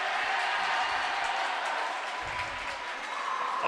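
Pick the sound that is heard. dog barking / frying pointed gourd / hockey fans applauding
hockey fans applauding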